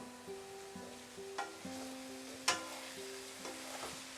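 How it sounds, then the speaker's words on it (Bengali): A spatula gently scrapes and stirs small kachki fish in a covered pan on medium heat, soft scuffs and a couple of sharper taps over a faint steady sizzle, quiet and close. "আলতো হাতে আমি এটাকে নেড়ে দিচ্ছি।"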